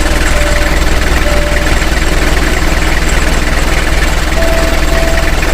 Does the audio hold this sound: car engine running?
yes